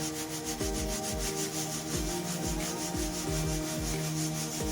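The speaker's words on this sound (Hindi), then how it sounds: "अच्छे तरीके से स्ट्रेन करके रेत को हम निकाल लेंगे।" Sand-roasted corn is shaken through a strainer over a wide tray to sift out the sand. A steady, gritty rattling and rubbing runs throughout, dotted with sharp clinks. It is close and loud, with no voices.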